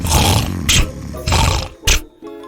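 A cartoon fairy-tale wolf snores loudly under an apple tree, giving long rumbling snores in a slow repeated rhythm with short gaps between them.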